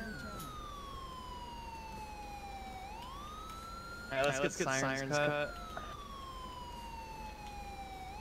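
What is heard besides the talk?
police car siren in video game FivePD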